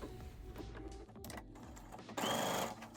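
A sewing machine stitches a seam on a flower-patterned market tote bag, running in short bursts with a louder, faster run near the end, close and alone.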